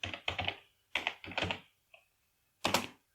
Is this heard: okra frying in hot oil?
no